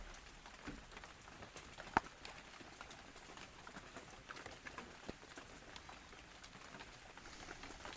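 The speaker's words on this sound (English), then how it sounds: "In the rain, under the redwood trees," Rain falls under redwood trees as a faint, steady patter with occasional sharper drops and a soft wet hiss throughout, heard alone without voices.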